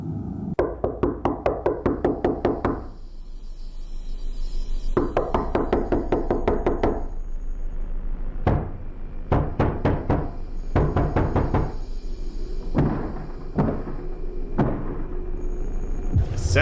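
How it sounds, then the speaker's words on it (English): Heavy pounding blows, like a door being battered down, come in rapid volleys of loud thuds separated by short pauses, with scattered single bangs in between, over a low rumble and with no talking. "Sounds like someone's breaking the door down."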